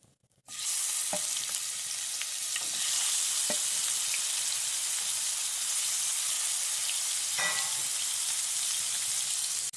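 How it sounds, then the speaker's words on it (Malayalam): Fish pieces sizzle steadily in a hot pan, a loud continuous fry with a few soft clinks and stirring sounds, no voices. "രണ്ട് കഷ്ണം കൂടെ ഉണ്ട് അങ്ങോട്ട് ഇട്ട് ഒന്നും കൂടി മൂപ്പിച്ചെടുക്കട്ടെ"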